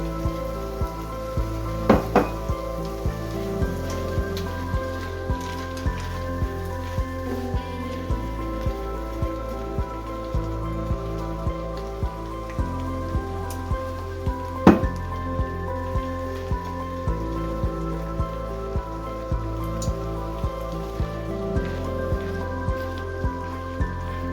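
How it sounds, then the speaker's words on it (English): Frozen peas and rehydrated soy curls cooking in a pan for a vegan chicken-style pot pie, with a steady soft sizzle and crackle under background music, plus occasional clinks. "The frozen peas go into the pan along with the rehydrated and drained soy curls."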